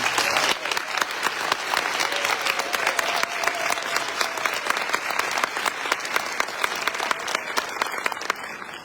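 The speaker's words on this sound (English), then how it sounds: "let's give our unit presidents a round of applause" Convention crowd at the opening session of the Florida ALA Convention gives unit presidents a sustained round of applause, many hands clapping in a thick, even wash that eases slightly near the end.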